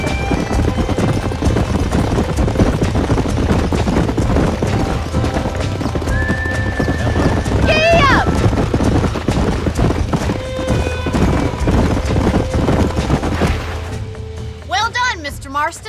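Steady clip-clop of hooves with a horse whinnying twice, the second near the end, over a busy background and some talk, in the video game Red Dead Redemption.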